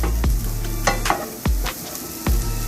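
Raw banana slices frying in oil on a medium flame, a steady close sizzle broken by a few sharp scraping stirs of the spatula.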